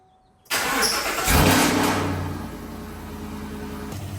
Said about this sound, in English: I also feel really bad about starting the truck up